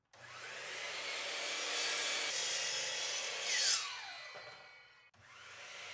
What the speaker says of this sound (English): We're gonna start cutting that stuff out on the miter saw